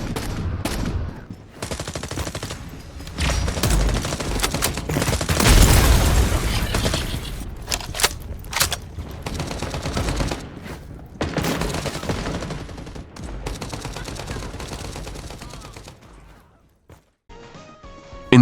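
Gunfire from first-person shooter video games comes in dense volleys with booms and crashes that rise and fall across a long stretch, then fade to near silence near the end.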